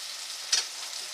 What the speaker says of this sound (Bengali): পেঁয়াজটা খুব সুন্দর করে ভেজে নিতে হবে